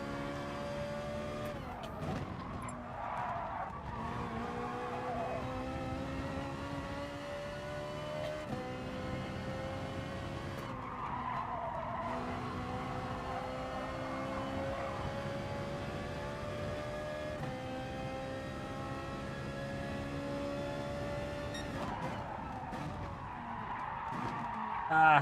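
Race car tires squeal and skid under late braking in GT Sport, with steady engine whine and revving throughout, loud and continuous with repeated screeching bursts.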